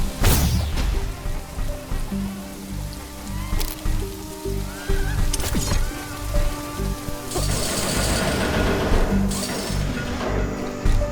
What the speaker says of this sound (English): The rain is over.